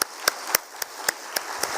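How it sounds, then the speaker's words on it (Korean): A congregation clapping at a Friday church worship service: sharp, evenly spaced claps in a quick steady rhythm, about seven in under two seconds, moderately loud over a soft background wash. "찬양할 때 청년들 나올 때 뜨거운 박수로 우리 맞이하겠습니다."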